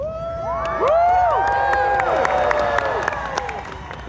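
Rally crowd at the March for Life cheering and whooping, high shouts and yells swelling after a moment and scattered claps mixed in, loud and dense for the whole stretch.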